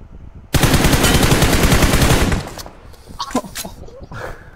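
Sustained automatic gunfire from a shooter video game, a loud rapid burst lasting about two seconds, then fading into quieter scattered shots and game noise.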